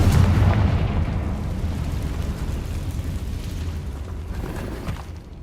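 A Confringo spell blast in Hogwarts Legacy gameplay: a loud, sustained booming roar that rumbles heavily at first and slowly thins out over several seconds.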